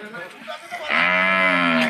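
A cow at Tottipur cattle market, where Indian-breed cattle are traded, gives one loud, drawn-out moo close by after a second of low market noise and faint voices.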